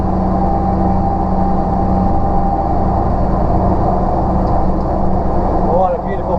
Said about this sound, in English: I love that sound of V8.